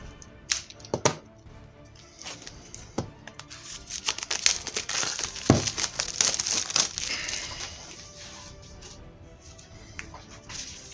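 Plastic wrapping crinkles and tears close by as Warhammer kit contents are unwrapped, with irregular sharp rustles and snaps that grow busier in the middle before easing off.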